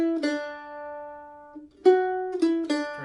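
A mandolin plays bar 2 of a tune: a few clear plucked notes ring out, then after a short gap a quicker cluster of bright picked notes follows, close and clean with no talking.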